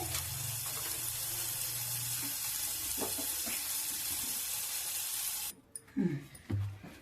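Butter melting in a hot pan on a gas stove for Mumbai street-style pav bhaji, a steady loud broadband sizzle and crackle for most of the clip, then abruptly cutting out into a few brief knocks and low hums.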